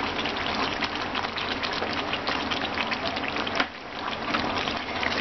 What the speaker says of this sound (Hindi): अब इसमें हम ऐड करेंगे ये क्रीम